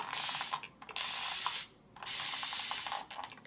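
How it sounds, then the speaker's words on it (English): A handheld spray bottle mists water in three long, steady hissing bursts separated by brief pauses, with faint clicks of the trigger mechanism, close and alone. "This is the spray bottle I use."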